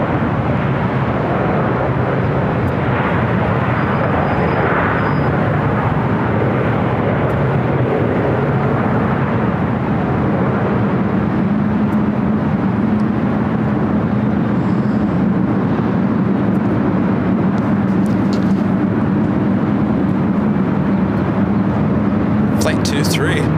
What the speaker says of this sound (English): Air France 777-300ER heading to 24 left.